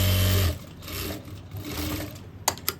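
A sewing machine runs briefly while sewing a pocket seam on a boy's cord set, a loud close motor whir that cuts off after half a second, followed by softer handling noises and a couple of sharp clicks.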